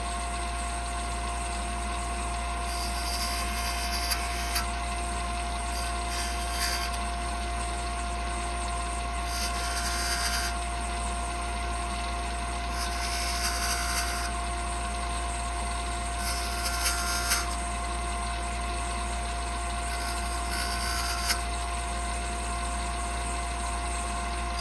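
A small wooden Christmas tree spins on a wood lathe under a steady motor hum while a 1/4 inch skew chisel cuts in repeated short hissing passes, close and continuous.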